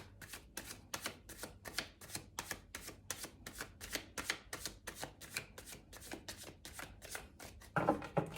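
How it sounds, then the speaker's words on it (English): Tarot cards are riffled and shuffled in a quick, even rhythm of soft snapping bursts, close up and fairly quiet, ending with a slightly louder flutter. "so we'll just do one final shuffle"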